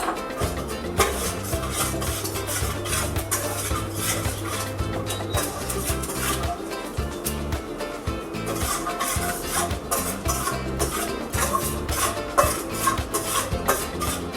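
Peanuts and sesame seeds being stirred and roasted in a pan: steady scraping and clinking of a spoon against the pan over a low sizzle, continuous and fairly loud, with no talking.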